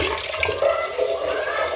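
Water runs steadily from a tap while a cooking pot with stuck-on curry is being washed, a brief close splashing rush without talk.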